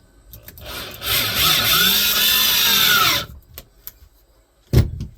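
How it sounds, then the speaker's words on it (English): A cheap Black & Decker hammer drill whirs loudly for about two seconds in a woodworking job, spinning up to a steady high whine and winding down, followed by a few light knocks and a sharp thud. "What is this, a hammer drill?"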